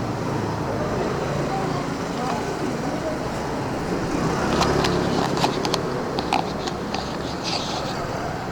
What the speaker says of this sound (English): Lots of traffic out here.